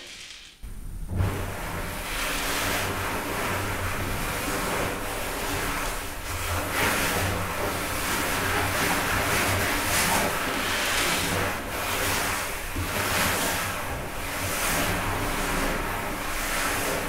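An ocean drum is tilted slowly so its beads roll across the head, making a continuous loud wash like wind or surf that swells and fades in long, even waves with no voices.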